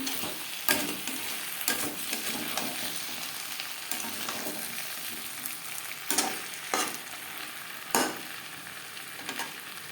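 Potato pieces frying with spices for a pangas fish curry, a quiet continuous sizzle broken by several sharp spatula scrapes and taps against the pan, no voices.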